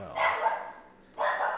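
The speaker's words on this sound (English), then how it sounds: "Puppy" A puppy barking twice close by, two short yappy barks separated by a brief pause, with no talk over them.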